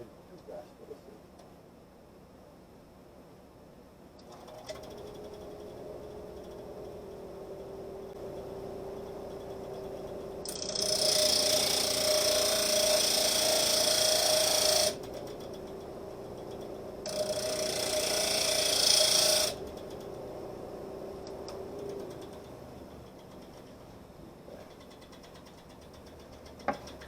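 A bit sander grinding down a metal part in a welding shop, running in two loud bursts of several seconds each with a short pause between, over a steady low background hum.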